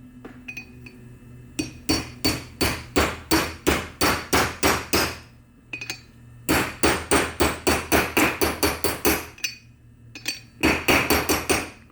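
An old socket is hammered to drive a seal into a Muncie 4-speed transmission, making rapid, evenly spaced metallic hammer blows in three bursts of about ten strikes each, loud and close with a clinking ring.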